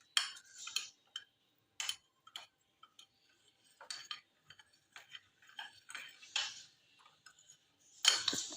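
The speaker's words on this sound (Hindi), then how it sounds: "इसे मिक्स करेंगे और दूध के अंदर डालेंगे" Custard powder being stirred into milk with a spoon, a run of quiet scattered clinks and scrapes against the vessel in an irregular rhythm, close and faint with no talking.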